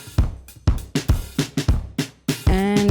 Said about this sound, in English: so I've used this drum loop from the library